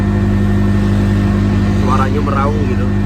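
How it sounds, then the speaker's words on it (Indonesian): A Bajaj three-wheeler's rear engine, mounted right under the seat, drones loudly and steadily as the vehicle climbs the Gombel hill in Semarang, with a person talking over it. "Suaranya meraung gitu. Oh, mesinnya karena ada di bawah saya persis."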